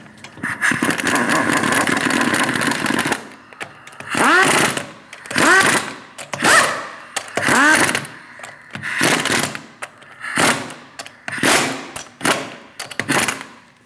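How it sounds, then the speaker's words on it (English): A power tool tightens lug nuts on a 2016-2020 Chevrolet Malibu 1.5L L4 wheel, sounding as about nine loud, close whirring bursts separated by brief pauses, with no talking. "Snug down the lug nuts."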